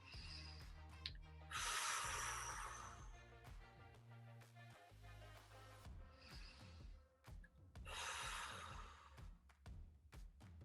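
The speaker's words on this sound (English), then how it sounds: "So I would take 3 deep breaths wherever you are." Slow deep breaths taken in a meditation exercise, two long airy inhale-exhale swells several seconds apart over a soft sustained musical background.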